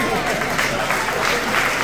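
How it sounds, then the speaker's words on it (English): Brief audience applause at a live stage event, a short burst of crowd clapping that holds steady for just under two seconds. "it's just a round of applause for your prize"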